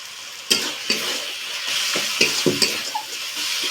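Spices with turmeric stir-fried in a pan for potol kosha, a continuous sizzle punctuated by several sharp scraping strokes of a spoon against the pan, loud and close.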